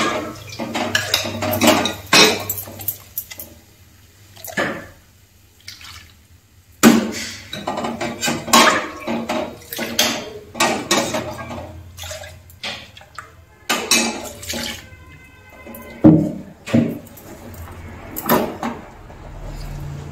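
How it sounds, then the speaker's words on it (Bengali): A mixer jar washed out with water in a home kitchen: clattering clinks and knocks of the jar and lid, splashes and drips, in busy irregular bursts broken by short pauses. "আর মিক্সারের জারটা ভালো করে একটু ধুয়ে দেব"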